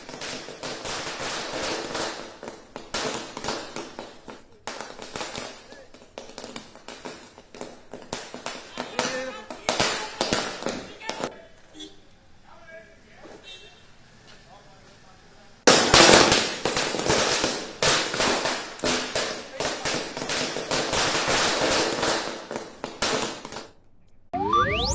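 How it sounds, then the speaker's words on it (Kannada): Firecrackers burst in rapid, crackling volleys at a street gathering, with loud clustered bangs, a quieter stretch midway, then an intense renewed barrage, while voices are heard around them. "ಪಟಾಕಿ ಹಚ್ಚಿದವರಿಗೆ ಪಟಾಕಿ ಹಚ್ಚಬೇಡಿ ಅಂತ ಡಿಕೆ ಬೆಂಬಲಿಗರು ತಾಕೀತು ಮಾಡಿದ್ದಾರೆ."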